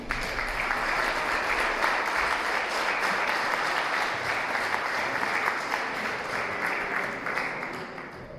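Audience at a Women's Day celebration in a Polish village hall claps steadily, a sustained crowd applause with individual claps audible, fairly even in loudness and fading only slightly at the end.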